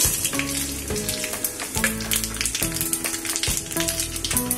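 Steady crackling sizzle of cumin and mustard seeds frying in hot oil, close by, with scattered pops over a constant hiss.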